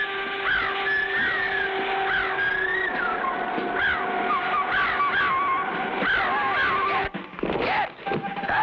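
A giant cartoon bird gives a run of repeated honking squawks at steady volume over a constant background hum, with a brief break near the end.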